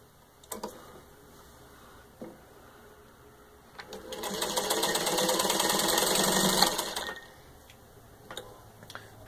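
A vintage 1939 Singer 15-91 sewing machine stitching through six layers of denim, ticking as it starts, then running in a steady fast mechanical whir for a few seconds before slowing to a stop, close and clear.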